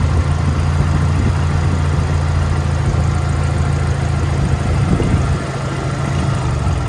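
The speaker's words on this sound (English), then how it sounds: "Electric fans kicking in." Steady, loud whirring drone of electric radiator fans running beside an idling SR20DET-swapped car engine, with a low hum that shifts slightly near the end.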